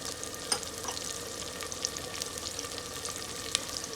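Spices with turmeric and salt frying for black lentil daal, dhaba style, a soft continuous sizzle with occasional faint ticks of a spoon, quiet and steady with no speech.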